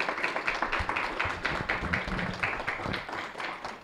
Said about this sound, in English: let's give a round of applause for our speakers